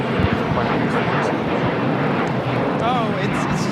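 A large jet, an Air France Boeing 777-300ER, taxiing at LAX, gives a steady broadband engine roar that fills the whole clip. Faint voices run beneath it.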